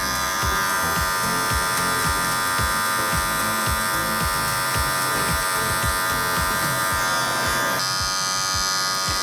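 Electric hair clipper buzzes steadily while cutting hair for a razor-textured haircut, with a continuous close hum and rapid rhythmic snipping strokes, its tone shifting slightly near the end.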